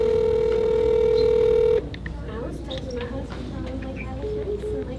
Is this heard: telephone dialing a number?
yes